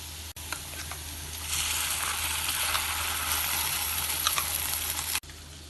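Sliced onion with ground masala paste for paneer vindaloo sautés in a pan, a steady close sizzle that swells after a moment, with a few faint stirring taps and no voices.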